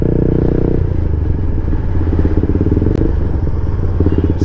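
Motorcycles, a Yamaha R15, two KTM Duke 200s and a TVS Apache RTR, ride together on a road trip, their engines a loud, steady, close drone with rough clattering texture and no talk over it.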